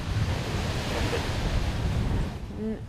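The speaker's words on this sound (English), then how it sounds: "Noisy scenes there, strong winds, huge waves, all driven of course by a very deep area of low pressure" Strong winds and huge waves batter the Solent during a deep low-pressure storm. Loud wind roar and crashing surf fill the whole clip as a continuous dense rush, easing slightly near the end.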